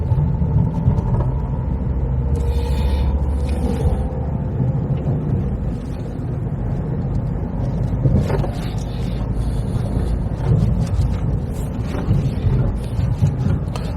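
A car drives along a bumpy road between Herne Bay and Reculver, giving a steady, loud low rumble of engine and road noise with wind buffeting and occasional thumps, and no talking.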